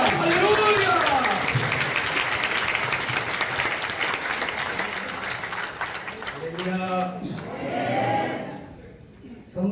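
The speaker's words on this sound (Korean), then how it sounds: "나오실 때 박수로 할게요" A church congregation applauds loudly and continuously in a worship hall. Excited voices rise over the clapping near the end as it tapers off.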